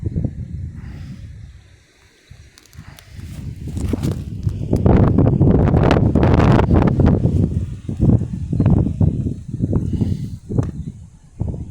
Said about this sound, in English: With it being a bit windy up here